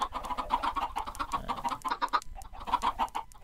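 Penned chickens on a Minecraft farm cluck steadily in a busy overlapping chorus of short repeated clucks, fairly close, with a brief lull before resuming.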